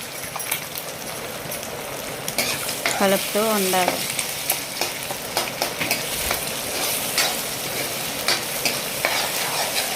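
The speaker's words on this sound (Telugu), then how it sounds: "గరిటెతోటి కలుపుతూ ఉండాలి." Beaten eggs stirred with a ladle in a hot pan for Maggi egg noodles, a steady sizzle under continuous scraping and clinking stirs, close and fairly loud, with a brief squeaky burst partway through.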